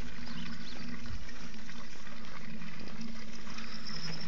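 Water runs steadily from a village fountain on the Gölova plateau in Sivas, a continuous splashing trickle with a faint low hum underneath, close and unbroken, with no voices.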